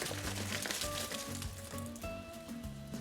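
Dried guajillo chiles hit hot oil with softened onion and garlic over very low heat, giving a steady, close sizzle and crackle throughout with a faint tonal hum in the background.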